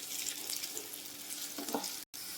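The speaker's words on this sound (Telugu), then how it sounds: "ఇలా ఈ కలర్ వచ్చేంత వరకు బాగా ఫ్రై చేసుకోవాలండి." Liver and amaranth leaves fry in a pan over a low flame, giving a steady close hiss of frying with a few soft stirring scrapes and a brief cut near the end.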